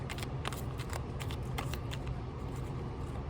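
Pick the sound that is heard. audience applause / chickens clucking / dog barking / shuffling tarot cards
shuffling tarot cards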